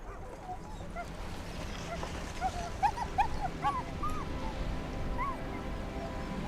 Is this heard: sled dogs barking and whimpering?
yes